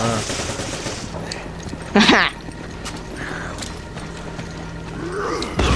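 Gunfire in the video game Resident Evil 5, heard as mechanical clicks and shots, with one loud sharp burst near the middle. People talk and exclaim over the game sounds throughout.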